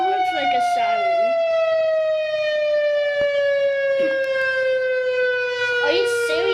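A tornado siren mounted on a house roof in the Roblox game Brookhaven wails as a steady tone that falls slowly across the clip, loud and continuous, with bursts of voices talking over it.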